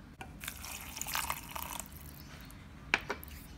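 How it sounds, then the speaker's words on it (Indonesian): Water poured from a container into onions and chilies for a coriander chili sauce, a soft, faint trickle and a few drips in a quiet kitchen, with one brief louder splash near the end. "Kita tambah air secukupnya aja."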